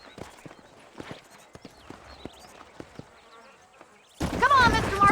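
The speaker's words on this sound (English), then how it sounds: "These are fine horses." Horse hooves clip-clop at an unhurried walk in Red Dead Redemption near Armadillo, light and spaced, before a burst of louder ambient noise and voices at the end.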